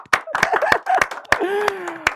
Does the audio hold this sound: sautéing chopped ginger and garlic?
no